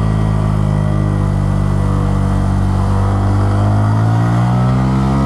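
A 2016 Honda MSX-125 SF (Grom) motorcycle on a test ride, its small single-cylinder engine droning loud and close as it accelerates, the pitch climbing steadily through the run with wind noise underneath.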